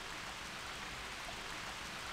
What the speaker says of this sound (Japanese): どうやら今日は一日小雨が降り続くみたいだな。